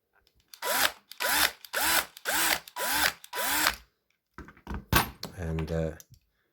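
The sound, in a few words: drilling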